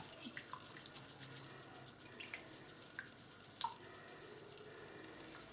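Water runs faintly and steadily while a hedgehog's belly is washed, a soft, continuous trickle with a few tiny drips and clicks.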